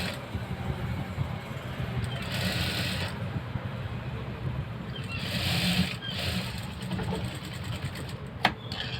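A sewing machine stitches a blouse in steady mechanical runs, its whirring needle rhythm swelling in two clear bursts over a quieter background hum, with a sharp click near the end.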